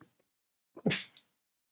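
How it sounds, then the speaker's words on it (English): A single quick, sharp sneeze, close and fairly loud, preceded by a short intake of breath, with silence around it. "I had to sneeze"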